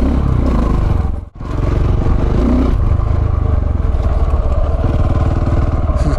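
A KTM 690 single-cylinder motorcycle engine chugs along at low revs in slow, lugging tractor-like riding, a steady loud near thrum with rattling clatter that briefly cuts out before resuming.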